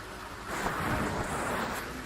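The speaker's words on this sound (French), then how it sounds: "Allez, on enchaîne les éclairs." A lightning spell in the video game Fable: The Lost Chapters sets off a rumbling, crackling thunder burst that swells and holds as a dense, noisy roar.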